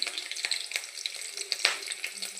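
Mustard seeds, cumin and green chilies fry in hot oil with a close, bright crackle of rapid pops and sputters over a steady sizzle.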